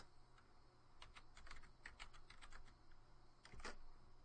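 Soft, quick keystrokes tap on a computer keyboard in a short irregular run, faint and close, with a final couple of presses after a pause.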